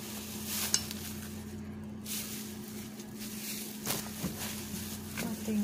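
Sticky rice being stirred by hand with ube condensed milk and ginger, a steady soft scraping and sticky churning that runs throughout, with a few louder knocks of the spoon against the pot.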